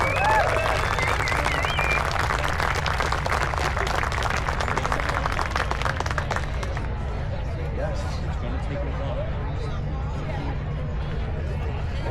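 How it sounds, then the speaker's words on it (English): Festival crowd at a Scottish gathering in Glasgow applauding the clans and a piper, sustained dense clapping that is loud at first and eases after a few seconds, with crowd chatter mixed in throughout. "Another big round of applause for the clans, Jonathan Tucker and Piper John McIntyre."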